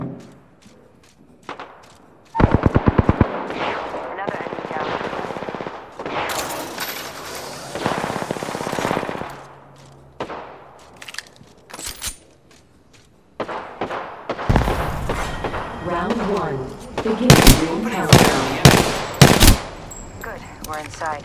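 Gunfire in Apex Legends: loud, close automatic bursts and single shots come in uneven clusters with quiet gaps between them. A dense volley near the start is followed by scattered shots, then a heavy exchange toward the end.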